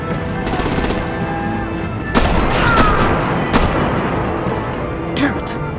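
Heavy artillery and gunfire in the Batman: The Enemy Within Telltale video game, loud repeated bursts of rapid shots and booms over a continuous roar of combat, with voices shouting over it.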